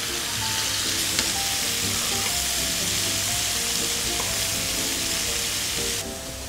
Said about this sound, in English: just cook it on each side a little bit more, for a few more minutes